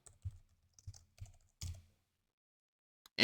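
Someone types on a computer keyboard, a few close, soft key clicks spaced irregularly, followed by a pause and a sharper final sound.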